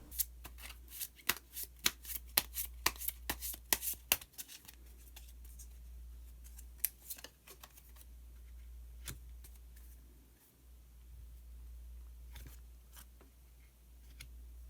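Tarot cards are shuffled and drawn, producing a quick burst of crisp riffling and snapping card clicks up close, then sparser, softer flicks over a low steady hum.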